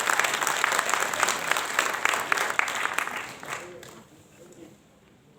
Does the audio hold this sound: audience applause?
yes